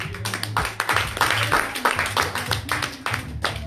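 A church congregation clapping for Jesus during a sermon, a dense, steady wash of many hands mixed with crowd noise and a low rumble from the hall, continuous throughout.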